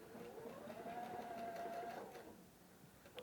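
A Husqvarna Viking Designer Epic 3 sewing machine stitches a buttonhole with a steady, close mechanical whir and a rising hum that winds down near the end, alone without talk.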